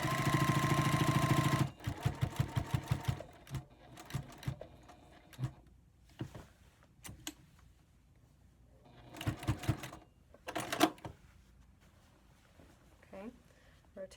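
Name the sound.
sewing machine stitching quilt binding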